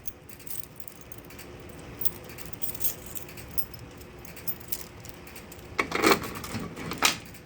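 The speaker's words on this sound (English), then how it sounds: "now I'm going to get my keys out" A bunch of keys jingles and rattles as it is pulled out beside a Simplex 4010 fire alarm panel, with light metallic clinks that grow brighter and louder in two bursts toward the end.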